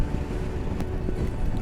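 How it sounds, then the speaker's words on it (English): Steady low roar of wind buffeting the microphone on a motorcycle trip in Ngari, Tibet, with snow falling; constant and fairly loud with no voices. "Wow, pretty windy."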